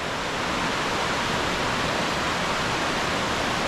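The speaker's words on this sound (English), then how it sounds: "loads of little waterfalls, the main one at the back there," Little waterfalls tumbling in a Yorkshire Dales valley near Malham produce a constant broadband rush of falling water, steady and fairly close with no pauses and no voices.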